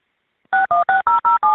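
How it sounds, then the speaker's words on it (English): Six evenly spaced telephone keypad DTMF tones on a jail call through the Evercom system, each a short, loud, steady two-note beep, starting after a brief silence. "Dialing of additional digits is not allowed."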